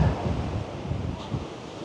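Ocean waves break and wash ashore at Saud Beach in Pagudpud, a steady broadband surf roar with several soft swells and some wind noise, and no voices.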